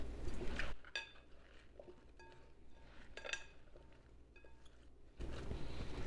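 Pork tenderloin dinner ingredients being tossed together with mixing utensils, giving light clinks and scraping taps against a pan or bowl, close and quiet over a faint steady background hum.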